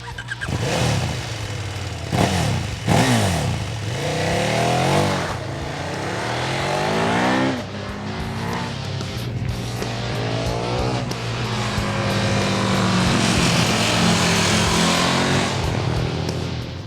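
A 2015 KTM Super Duke 1290 R V-twin engine revs hard and repeatedly, rising and falling in pitch with gear changes, loud and close throughout.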